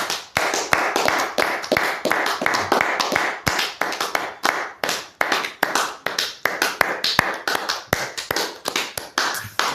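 A church congregation claps in steady, rapid rhythm throughout, loud and close, as worshippers acclaim Jesus together; no talk stands out over the clapping.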